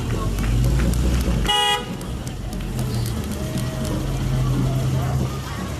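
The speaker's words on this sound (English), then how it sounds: "Honk, honk, honk." Volvo club cars in a street parade give a short, loud horn toot over steady engine rumble, with crowd noise and voices around.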